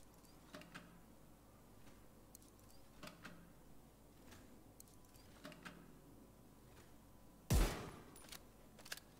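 Gunfire in The Division 2, faint scattered shots with one sharp loud burst near the end over a quiet game background, with no voice heard.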